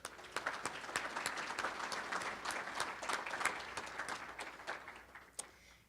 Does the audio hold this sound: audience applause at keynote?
yes